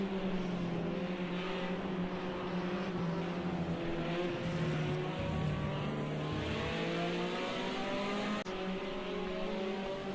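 A 1973 BMW 2002 race car engine in Project Cars 2 drones and rises in pitch as it accelerates, a steady loud mechanical roar with layered harmonics and no talking.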